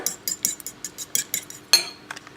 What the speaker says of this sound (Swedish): Så jag vispar.